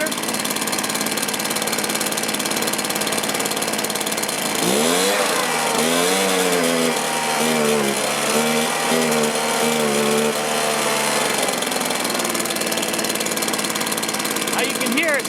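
Stihl two-stroke small engine, carb recently cleaned and tuned, running loud and steady, then bogging and wavering as it fails to throttle up cleanly, with a voice talking over it.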